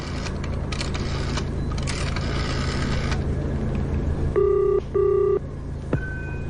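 An old telephone is handled and dialed, then two short electronic ring tones sound in a quiet room with mechanical clicks and rustling; no one speaks.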